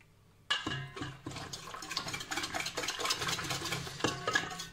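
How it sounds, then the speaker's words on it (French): Whisk or spoon beating eggs into Brussels waffle batter in a bowl, a steady rhythmic scraping and tapping that starts abruptly and continues close and clear, no talking. "Donc, on mélange bien."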